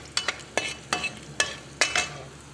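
Garlic sautés in hot oil in a pan for cauliflower rice, with a soft sizzle under a series of distinct scraping stirs and clinks of a utensil against the pan, each a few beats apart.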